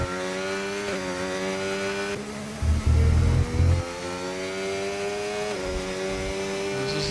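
Formula 1 car engines in the F1 25 racing game scream at high pitch through a lap of the Australian Grand Prix, with gear shifts and a brief low rumble.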